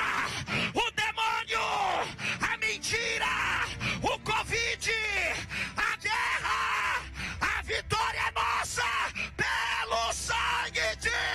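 A church congregation shouts back in loud, rhythmic bursts of yelling, trading repeatedly with a preacher's voice through an amplified sound system in a lively worship service.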